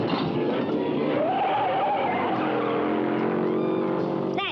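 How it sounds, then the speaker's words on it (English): A stolen hot rod's motor runs rough with a steady, continuous roar, and a rising whine sweeps up partway through before settling into sustained tones, loud and close with no talk. "This motor doesn't sound the way it ought to."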